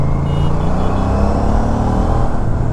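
A motorcycle fitted with a GPR titanium full-system exhaust rides through city traffic, its engine droning steadily with a deep, continuous rumble and slight rises in revs, close and loud with no talking.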